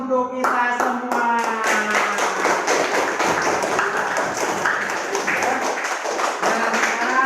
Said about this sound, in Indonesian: Kita aplaus untuk kita semua.